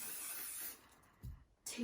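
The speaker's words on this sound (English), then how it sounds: "just a little bit of a shine spray on here" Short hissing bursts of shine spray from a can are aimed onto hair while styling beachy curls, fairly close and quiet, with brief pauses between puffs.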